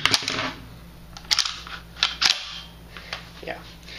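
A buckshot shell is pushed into the tube magazine of a Mossberg 500 shotgun, producing sharp metallic clicks and clacks close up over a low hum, with no talking.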